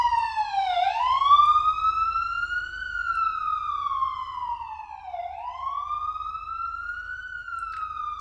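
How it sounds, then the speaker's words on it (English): A loud wailing ambulance siren on a New York street sweeps slowly up and down in long cycles, close by and steady, with faint low street rumble beneath. "this is the ambulance of New York. They do like crazy noise."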